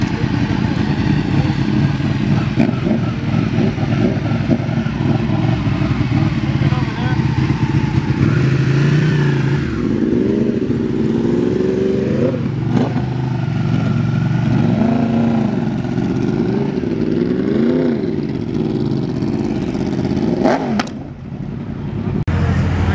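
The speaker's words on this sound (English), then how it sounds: "My friends on the bikes heading" Motorcycles ridden off by a group of friends at a supercar meet, a steady mid-pitched engine rumble that rises and falls as the bikes pull away, with people talking over it throughout.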